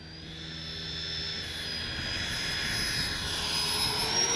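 A Freewing 80mm A-10 RC jet makes a low pass, its electric ducted-fan whine rising in a steady high-pitched howl that grows louder as it nears, with no voices.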